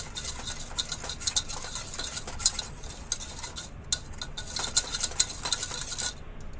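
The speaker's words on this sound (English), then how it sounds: "And then we'll scrape up all that good stuff in the bottom of the pan." Steady scraping and stirring in a gumbo pan, a utensil working up browned bits left from flour-dredged ribs for a sausage and seafood gumbo; continuous close metallic scrapes and clinks with no talking.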